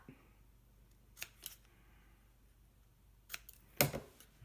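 Paper card stock trimmed for a handmade masculine greeting card, heard as a few short, crisp cutting snips spaced apart in a quiet room, with the last cut the loudest and closest.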